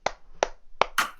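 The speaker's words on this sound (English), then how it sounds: "everyone, a round of applause for Art" A few separate hand claps, three sharp ones spaced evenly and a fourth slightly longer, close and dry, like a small group of podcast hosts offering a brief round of applause.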